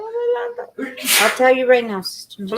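A single sneeze bursts out in the middle of close, indoor conversation, loud and sharp, with people talking just before and after it.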